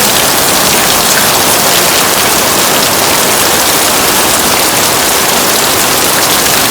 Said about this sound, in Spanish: Aquí está lloviendo fuerte hoy.